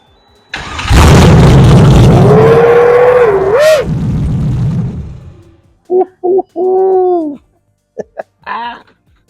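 A car engine cranks and catches with a loud, close roar that rises, revs and settles over several seconds. Short sharp electronic chirps and tones from a dash alarm follow.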